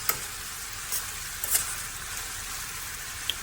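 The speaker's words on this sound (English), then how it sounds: "So while that fries crisp, the bacon takes a little while." Bacon frying crisp in a pan, a steady close hiss of fat with a few faint pops and scrapes, no voices.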